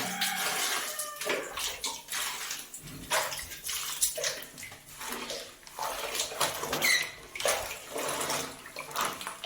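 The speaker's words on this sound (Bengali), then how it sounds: "প্রচুর নোংরা হয়েছে জামা কাপড়গুলো এগুলো এখন ভেজে রাখা" Dirty clothes soaking in a tub or basin of water, with steady splashing and pouring and bursts of sloshing and rinsing, close and fairly loud throughout.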